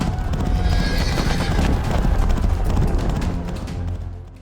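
Horses of an ancient Egyptian army with chariots neigh and whinny over galloping clip-clop hooves, a loud, dense, continuous charge.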